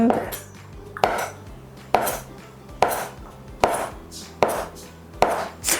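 A knife chops rolled noodle dough on a board in about seven firm, evenly spaced strokes, each a sharp knock that fades quickly, close and clear over a faint background hum, without speech.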